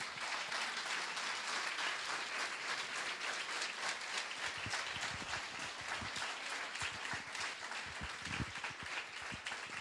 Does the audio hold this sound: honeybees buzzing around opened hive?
no